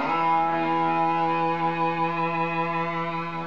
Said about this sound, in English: Distortion pedal, which overloads the signal.